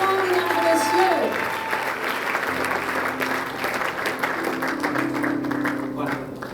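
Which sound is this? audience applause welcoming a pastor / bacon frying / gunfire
audience applause welcoming a pastor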